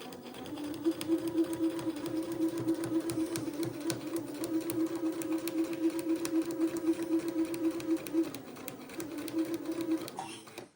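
A sewing machine stitches a line on an Eton suit, running in one steady, fast, even whir and needle patter for about ten seconds before slowing and stopping, close and fairly quiet, with no one talking.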